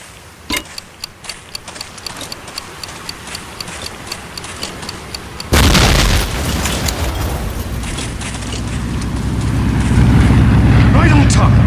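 After a run of steady ticking, an explosion blows up an 88 gun in the World War II shooter Medal of Honor: Allied Assault Spearhead, a sudden loud blast followed by a long rumbling roar.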